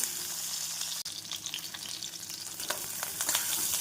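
Onion, a dried chilli and curry leaves frying in hot oil give a constant close sizzle, stirred now and then.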